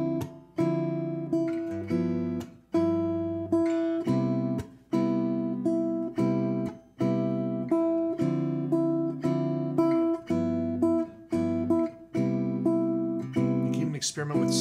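Jazz ii-V-I chord voicings on guitar are played with a pick in short, rhythmic comping stabs, with a note on the second string carried across the chord changes. The playing is close and clean with no speech.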